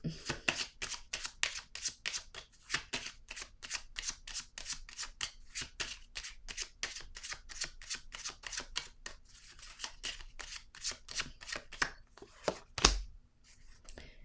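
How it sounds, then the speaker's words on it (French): Tarot cards are shuffled in a rapid, even run of crisp riffling flicks, close and fairly soft, followed by a short rustle and a sharp snap as a single card is drawn. "Je vais piger une carte ici, une nouvelle carte."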